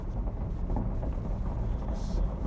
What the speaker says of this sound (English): this truck makes a lot of noise on the rock